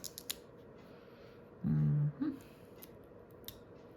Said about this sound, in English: You can also just take a large dimensional and you can cut it in half.